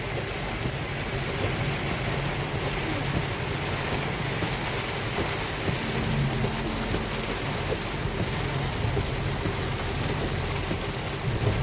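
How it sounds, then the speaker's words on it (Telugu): Steady, heavy rain roars throughout at an even level on the Hyderabad to Karimnagar road, with a low rumble underneath that could be distant thunder. "హైదరాబాద్ టు కరీంనగర్ పొయ్య రోడ్లో భారీ వర్షం"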